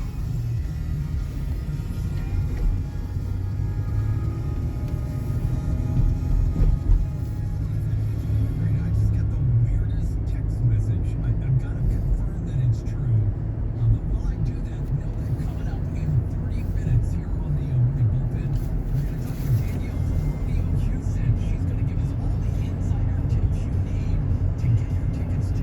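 A 2012 Buick Enclave with about 55k miles accelerating up onto a highway, a steady low engine and road rumble heard from inside the cabin, continuous and moderately loud, with faint ticking at times.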